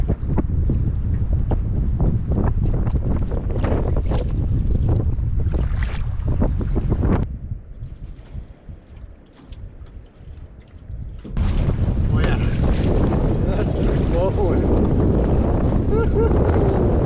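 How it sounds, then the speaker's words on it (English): Strong wind buffets the microphone while canoeing downwind on a lake, a loud roaring rush that eases into quieter water sounds mid-way before surging back, with some speech under the gusts. "Just let the wind blow us, do a little bit of paddling, a little bit of steering, but we'll let the wind do a lot of the work."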